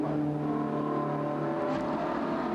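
Race car engine at low revs, creeping through the pit lane drive-through at Hockenheim in a CoppaShell race, a steady droning hum with harmonic tones that holds evenly throughout.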